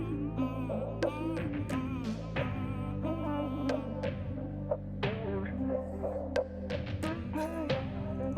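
Hair trimmers buzz steadily while cutting a mid fade, a close, low electric hum with a throbbing motor tone, and short clicks and brushing strokes scattered throughout.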